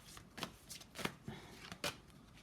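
Tarot cards being shuffled by hand, a soft, close series of riffling and slapping bursts at an uneven rhythm, quiet and without talk.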